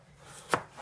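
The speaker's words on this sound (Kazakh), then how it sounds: "Ал енді сәбізден бастап тураймыз." A single crisp knife chop through a carrot on a cutting board, one short sharp hit in a quiet kitchen.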